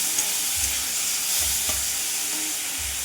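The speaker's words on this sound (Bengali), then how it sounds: "এবার চিংড়ি মাছগুলো দিয়ে ভালো করে ভেজে নেব" Prawns fry in a pan with radhuni spice, a steady bright sizzle running throughout while a utensil stirs and scrapes in a few soft, rhythmic strokes close by.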